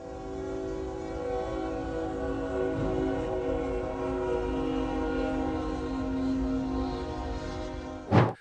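A Union Pacific train horn blares in a long, sustained chord over the heavy rumble of the train passing a railroad crossing in Forney, Texas, ending with a sharp burst of noise.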